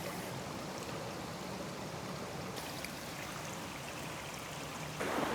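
A brook runs through wooded Padley Gorge past waterlogged ground, giving a steady, even trickle and burble of flowing water throughout, with a slightly louder rush at the very end.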